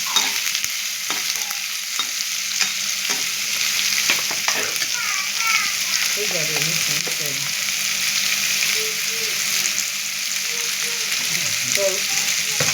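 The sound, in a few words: snake gourd being sautéed and stirred in a pan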